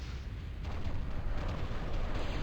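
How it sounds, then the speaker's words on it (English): Juggernaut cannon shots in the strategy game TA Escalation boom repeatedly, a loud, continuous rumble of heavy blasts and crackling debris with no speech. "Those massive explosions you see, those are the Juggernaut cannons."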